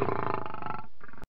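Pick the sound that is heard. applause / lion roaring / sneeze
lion roaring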